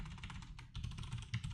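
Steady typing on a computer keyboard, close and fairly quiet, a dense run of soft clicking keystrokes with a few louder taps, no talking.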